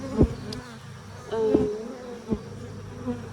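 Honeybees buzz around an open beehive with no smoke in use, a low drone with a few louder passes near the microphone.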